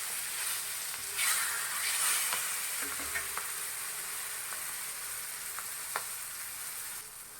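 Vanjaram fish fries in a pan, browned after flipping. A quiet, steady sizzle carries on with scattered faint ticks and pops, and no one speaks.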